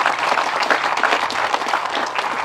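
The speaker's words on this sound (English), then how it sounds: "So, round of applause." A crowd at an outdoor groundbreaking ceremony for a biofuels plant in Oregon gives a loud, dense round of applause, with many hands clapping steadily and no voices.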